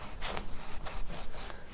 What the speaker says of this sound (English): I'm going to find the middle and just start sawing.